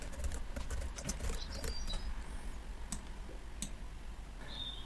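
Typing on a computer keyboard while entering an email address into an Excel spreadsheet: a steady run of light, quick key clicks at close range, with no talking.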